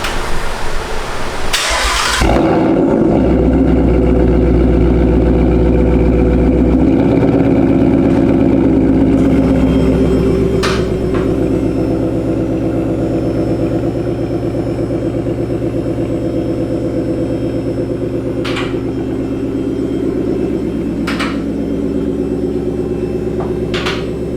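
A 2020 Ford Mustang GT engine with a Borla ATAK exhaust cranks and roars to life loudly, then settles into a steady idle with a few faint clicks and taps around it.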